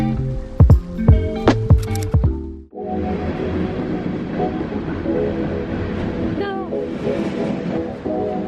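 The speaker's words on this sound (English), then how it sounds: "I'm on the train now." Steady rumble and rolling clatter inside a passenger train heading into Toronto, loud and continuous after a brief burst of louder clicks and squeaks at the start, with a faint squeal partway through.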